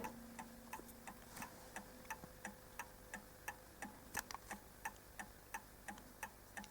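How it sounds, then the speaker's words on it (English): The pendulum of an Anville Westminster clock ticks in a steady, even rhythm, each tick crisp but quiet and close, with nothing else over it. "I'm going to kick it off with the pendulum, and you can hear that beautiful tick"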